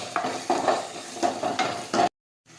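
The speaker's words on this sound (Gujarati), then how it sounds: "હવે આપણે જીરું નાખીશું. હવે આપણે સાતળી લઈશું." Cumin seeds sizzle in hot oil in a pan for Gujarati ringna no olo (eggplant bharta), with five rhythmic bursts of stirring scrapes over the frying before a sudden cut to near silence.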